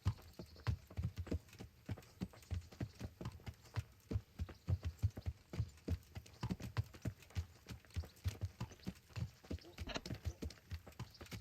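Horse hooves clip-clop steadily at a walking pace in the medieval role-playing video game Kingdom Come: Deliverance, close and rhythmic with faint background ambience and no talk.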